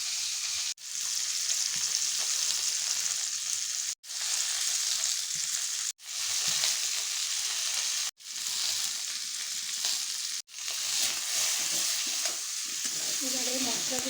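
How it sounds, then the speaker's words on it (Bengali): Spices frying with vegetables in a pan, a steady loud sizzle with stirring, broken by a few brief pauses, close up with no talking. "এবারে মশলাগুলোকে একটুখানি সবজির সাথে ভেজে নিই, ওই ভেজে মানে একটু নাড়াচাড়া দিয়ে নিই আমরা।"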